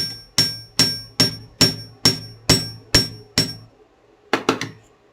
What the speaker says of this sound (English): Just once or twice with your hammer.